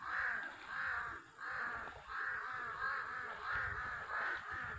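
Crows caw repeatedly in a steady series of harsh calls, one after another at an even pace, over a faint background hum, near banana plants in Tayabas City, Quezon Province, Philippines.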